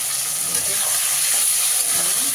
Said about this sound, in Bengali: চিংড়ি মাছটাকে হালকা হাতে একটু ভাজছি, সামান্য একটু ভেজে নেব।